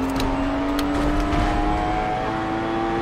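Race car engine accelerating in Forza Motorsport 7, a Korean car held flat out in a pack: a loud, steady engine drone that climbs slowly in pitch, with no pauses.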